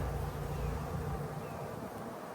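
Honey bees buzz steadily and close during a spring hive inspection, a dense continuous hum with no speech.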